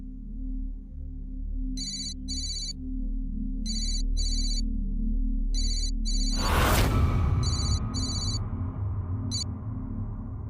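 A telephone rings in repeated pairs of bright electronic trills over a steady low rumble, with a sudden loud whoosh in the middle before the ringing continues.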